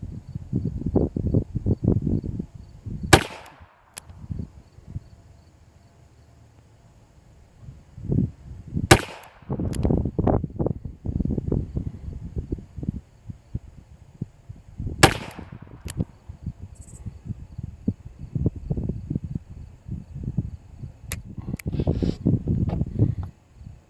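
A High Standard Sentinel revolver fires sharp, loud single shots spaced several seconds apart, with voices talking between them.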